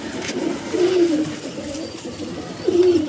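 A pigeon coos twice close by, each a short throaty warble, amid low ambient noise at a pigeon seller's home.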